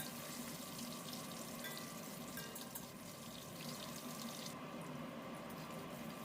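Mung dal dumplings (muithya) frying in hot oil in a kadai, giving a steady, dense sizzling hiss that continues unbroken throughout, close by and with no voices.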